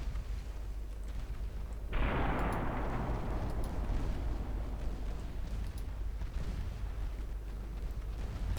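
Naval gunfire in Ultimate Admiral Dreadnoughts, with three-inch guns among the armament, lands as a sudden heavy blast that spreads into a sustained roar and rumble over constant low sea and engine drone.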